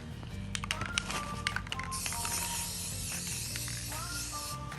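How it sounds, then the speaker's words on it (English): Gloss spray paint going onto a big orange pumpkin, a soft close hiss in short bursts and longer sprays, with faint clicks and rustling between passes. "I took a big orange pumpkin and I did a first coat of spray paint"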